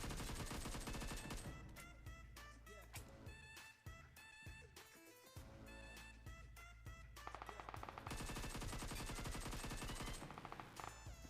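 Rapid gunfire bursts from the mobile battle royale game BGMI, dense and continuous over game music and effects throughout, with no pauses.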